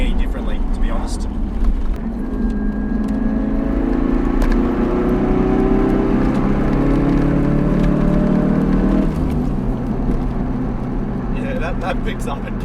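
Ford Focus RS with a fully built 500 hp engine and upgraded Precision X2 turbo accelerating hard, a loud rising engine drone with climbing tones from inside the car, then a shift and continued pull.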